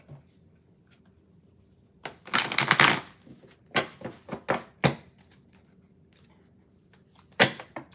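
Tarot cards being shuffled, a dense riffling burst followed by scattered soft taps and flicks of the cards, quiet and close in a calm room.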